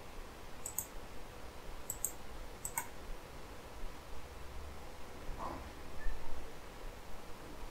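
Computer mouse clicks on a web page, a few sharp double clicks spaced apart near the start, then a softer click later, set against a steady low background hum with no talking.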